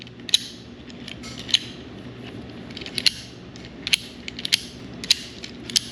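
Lock tailpiece being inserted into a custom lock for a 4¼-inch-thick wooden door: a series of small, sharp metallic clicks and ratcheting ticks, spaced irregularly over a quiet shop background.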